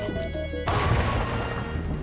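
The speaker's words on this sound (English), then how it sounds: "the explosion there" A loud explosion in the Plants vs Zombies video game bursts in after a short stretch of quieter game music and tones, then a dense, rumbling blast fills the rest of the moment.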